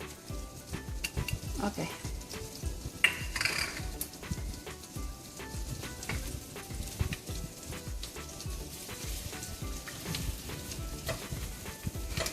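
Cumin and garlic frying in butter in a pan for palak paneer, a steady crackling sizzle with popping spatters and stirring scrapes, close and continuous, with a brief spoken word.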